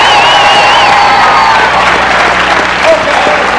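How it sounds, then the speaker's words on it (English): A loud crowd in a university lecture hall applauds and cheers, with whoops and whistles rising over a continuous roar of clapping and overlapping shouting voices. "Applause for this one."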